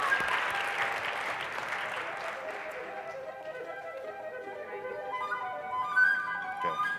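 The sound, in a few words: audience applause at conference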